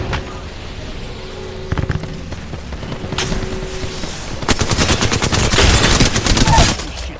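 Pistol fire in the battle-royale video game Apex Legends, with a few separate shots early, then a dense rapid burst of gunfire that grows loud and busy toward the end over game noise.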